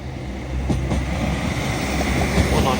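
A Northern train pulls out of York station bound for Leeds via Garforth, a low rumbling roll with faint clanks and wheel noise at a moderate distance, growing slightly louder.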